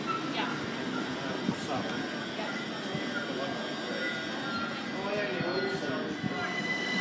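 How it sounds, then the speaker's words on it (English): A Great Northern train pulls out of Cambridge station with a steady, broad rumble and hum of traction equipment that holds at an even level throughout, close and continuous. "Right, that Great Northern now departing."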